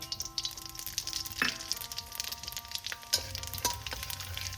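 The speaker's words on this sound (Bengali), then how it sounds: "এবার ওই তেলের মধ্যেই আমি দিয়ে দেবো ফোড়ন।" Two dried red chillies, two bay leaves and five-spice seeds crackle in hot oil as a tempering for pumpkin chhokka, a close sizzle broken by sharp pops and occasional clinks, with no talk.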